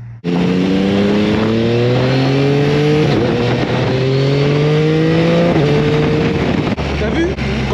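Loud Yamaha Tracer 9 motorcycle engine revving close by, pitch climbing repeatedly in long sweeps before dropping, with a brief lower idle near the end.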